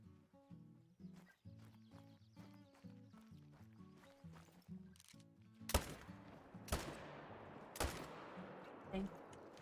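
Three loud rifle shots in theHunter: Call of the Wild while hunting roe deer, spaced about a second apart. They cut sharply through soft in-game music and ambience.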